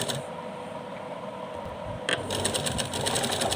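A sewing machine runs a seam through folded lace with a rapid mechanical chatter. After a brief lighter patch the stitching speeds up into a denser, steadier run, close by and with no talking.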